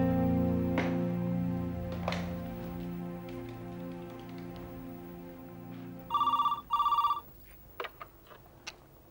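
A telephone rings twice in quick succession, with two bright electronic trills near the end of a quiet indoor stretch that has a low hum and a few faint ticks.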